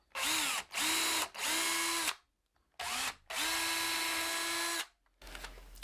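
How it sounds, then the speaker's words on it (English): A power drill pre-drills screw holes at an angle into a DIY sawhorse, whining loudly in five bursts of varying length with short pauses between and a brief clatter at the end. "I'm going to pre-drill up under here and kind of go a bit at an angle"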